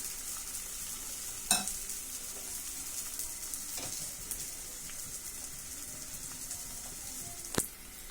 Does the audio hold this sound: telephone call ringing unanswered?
no